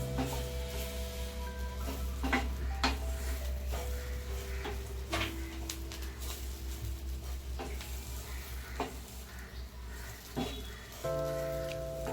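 Oats dry-roasting in a pan as masala oats are being made, a soft continuous rustle and light sizzle with a spoon stirring and scraping at intervals, close and fairly quiet under a steady low hum, no voices.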